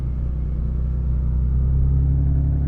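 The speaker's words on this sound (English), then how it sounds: "And that's when I heard the sound of an engine approaching very slowly." A low, steady engine rumble from a huge truck on a highway holds throughout, swelling slightly as it slowly approaches, loud and without any voices.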